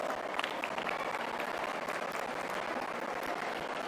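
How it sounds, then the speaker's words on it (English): A large audience cheers and claps for a student community at a quantum valley foundation stone ceremony, a dense, steady roar of applause and voices sustained throughout. "a huge cheer for the student community over here"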